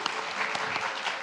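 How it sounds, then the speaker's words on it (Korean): A brief wash of congregational applause inside a church, even and moderately loud, with many hands clapping together for the whole short moment. "박수 한번 하겠습니다."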